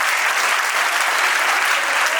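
An audience at a career counselling and motivational program bursts into loud, dense applause, a close, sustained roar of many hands clapping without pause.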